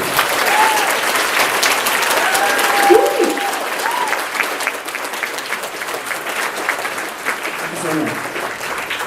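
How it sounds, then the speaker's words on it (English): Sustained audience applause fills the room after a Transformers convention panel at TFNation 2019, steady and dense throughout, with scattered voices and a few brief spoken words poking through the clapping. "Another round of applause for Joe."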